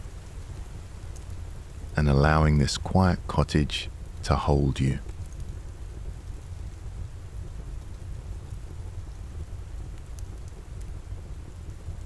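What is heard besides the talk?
steady rain falling outside a cottage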